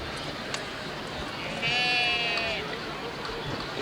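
Sheep bleating at a sheepdog trial at an agricultural show, one clear wavering bleat rising over a noisy outdoor background, with someone talking faintly underneath.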